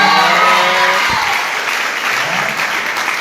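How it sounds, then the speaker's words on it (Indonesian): A crowd applauding at a training seminar in Kupang, loud steady clapping that fills the room and fades slightly toward the end. "berikan aplaus"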